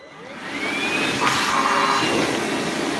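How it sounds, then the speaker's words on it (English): Continuous loud suction roar of a shop vacuum pulling in heavy copper wire cutoffs, steady throughout with a faint whine and brief rattles as pieces are drawn in. "this vacuum absolutely eats the heavy pieces of copper"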